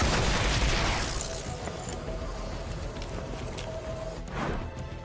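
Rapid bursts of gunfire aimed at a turret in XCOM: Chimera Squad, a dense crackling volley that starts loud and tapers, with a further sharp burst near the end.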